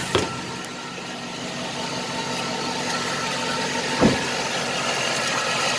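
A 2005 Cadillac Escalade ESV with a 6.0L engine and 308K miles idling steadily just after startup on fresh oil, a low continuous hum with a couple of faint clunks and no voices.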